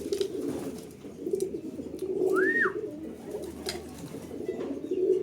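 Racing pigeons arrive home at the loft after a 77 km flight in Tarlac. Soft low cooing continues throughout, with one brief rising-and-falling whistle midway. No one speaks.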